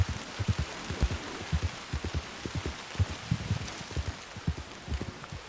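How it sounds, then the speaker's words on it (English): Rain falls continuously in a video game forest, with a steady patter and many soft irregular thumps of drops landing close by, no talking. "look how detailed this rain is"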